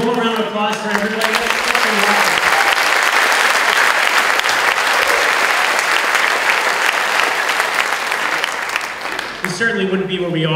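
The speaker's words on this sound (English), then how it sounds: "One more round of applause for everybody." An audience at a school superintendent's opening day presentation bursts into loud, sustained applause that fills the room for about ten seconds, with a speaker's voice heard briefly at the start and end.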